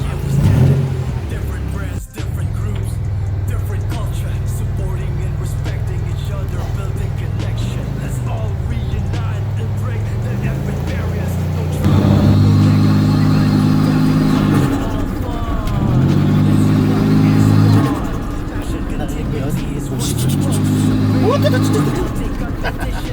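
A Datsun 280Z Fairlady Z on a road test, its engine droning and rising in repeated revving pulls through the gears, heard from inside the car with people talking over it.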